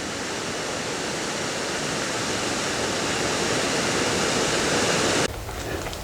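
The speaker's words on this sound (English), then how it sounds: "This is a nice shot over there where you see several little waterfalls" Several small waterfalls on the Presque Isle River in Michigan pour in a steady, loud broadband rush that fills the scene, cutting abruptly to a quieter, thinner water sound near the end.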